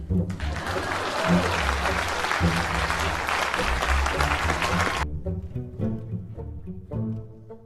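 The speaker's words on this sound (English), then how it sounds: "Please clap." Audience applause swells into a thick, sustained wash of clapping for several seconds, then stops abruptly, leaving quieter background sound.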